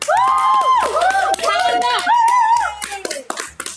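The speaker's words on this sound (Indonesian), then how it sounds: "Tepuk tangan." Applause from several people, with melodic, singing-like voices carried over it and a few sharper claps standing out near the end.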